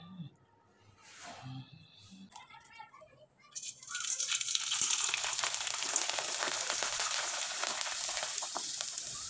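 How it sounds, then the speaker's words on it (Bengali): Sabudana pitha dropped into hot oil bursts into a loud, dense sizzle that swells after a few quiet seconds of soft clinks and handling noise, then holds as a steady crackling hiss. "এবার আমি কয়েকটা পিঠা তেলে ভেজে দেখিয়ে দিচ্ছি।"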